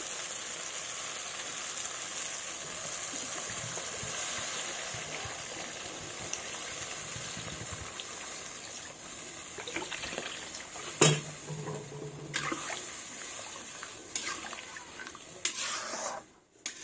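Water is poured into a pan of fish curry with ridge gourd, a steady close gush and hiss that continues, then gives way to a few bubbling, clattering sounds toward the end.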